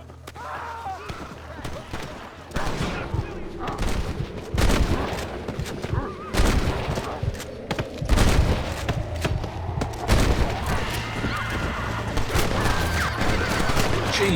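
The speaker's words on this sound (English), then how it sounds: "Guns going off." Rapid bursts of gunfire in Red Dead Redemption, loud overlapping shots and volleys rolling on over several seconds, with sharp cracks and booming reports close by against a busy game backdrop.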